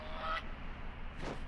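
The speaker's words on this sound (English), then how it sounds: "Oh, goose." A goose gives a couple of brief honks at a distance, faint against a quiet background, with a short sharp knock at the very end.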